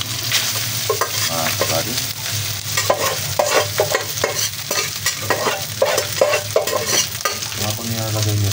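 Leftover rice is stirred and scraped in a hot pan, giving a loud, close sizzle broken by rhythmic spatula scrapes. A brief spoken phrase sits over the frying.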